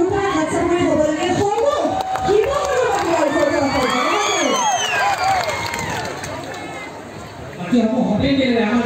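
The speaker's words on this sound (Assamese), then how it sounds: "এটা জোৰদাৰ হাত চাপৰি হ'ব লাগে" A crowd cheers, whoops and shouts at the Kanaklata Awards 2021 ceremony in Sivasagar, Assam, with children's voices in the mix. The loud, sustained noise runs under amplified speech throughout.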